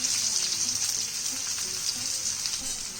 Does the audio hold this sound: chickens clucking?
no